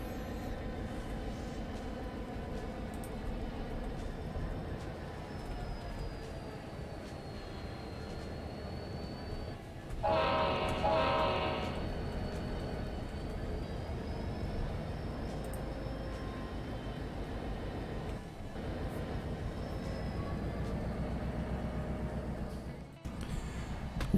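Cotton Belt diesel locomotives and yard switchers in the Trainz 2019 railroad simulator, a quiet steady engine drone with a short louder hiss partway through and a brief clunk near the end, no talk.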